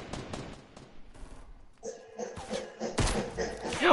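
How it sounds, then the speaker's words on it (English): Rapid bursts of gunfire in Fortnite, sharp cracks and thuds that grow louder and denser toward the end, with faint talk underneath. "Oh, I hear gunshots."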